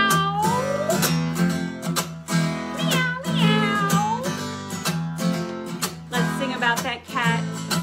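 Several voices mimic cat meows together, rising and falling wails repeated over a steady low background, loud and close.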